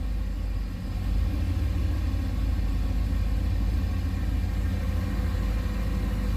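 Boosted 6.0-litre LS V8, freshly started and running steadily in a garage with a Holley Terminator X setup, giving a continuous low, loud rumble with a slight dip near the start and no talk over it.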